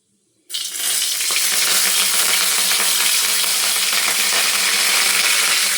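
After a moment of silence, curry leaves hit hot oil with a sudden loud sizzle that keeps crackling steadily and intensely.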